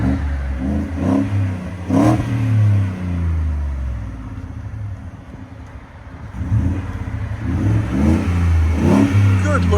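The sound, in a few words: Ford F-150 5.0L Coyote V8 revving with Borla Pro XS exhaust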